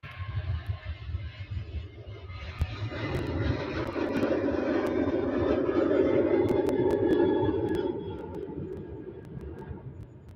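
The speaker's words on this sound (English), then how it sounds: "The next flight about to go is a Ryanair flight to Marrakesh." A Ryanair airliner departs Manchester Airport for Marrakesh in thick fog, its distant jet roar swelling steadily over several seconds and then easing off, with no talking.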